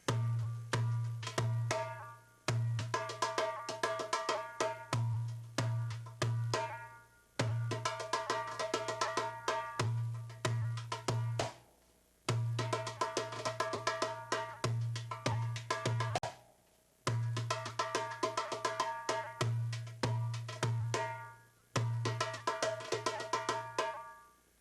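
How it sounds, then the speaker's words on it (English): Darbuka played in a Masmudi Kabir rhythm variation that skips the fourth beat: deep dum strokes and sharp tek and ka slaps in a repeating cycle, close and loud, with short pauses between phrases. "The second one was the one that skipped the 4th beat"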